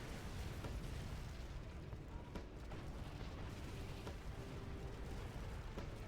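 Inferno cannon napalm shells exploding in Command & Conquer, a dense continuous rumble of low booms and crackling bursts running underneath the battle, steady and fairly loud with no clear separate hits.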